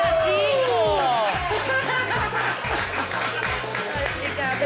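Studio audience clapping for a contestant on a Brazilian TV game show, dense sustained applause mixed with crowd chatter and a voice talking over it throughout.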